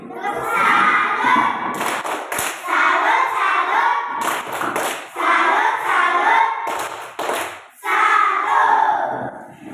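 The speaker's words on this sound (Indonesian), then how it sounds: "Ya, tepuk salut lagi." An audience at a church Bible lesson gives a group clap salute in loud bursts of rhythmic clapping mixed with excited shouting voices, separated by short pauses.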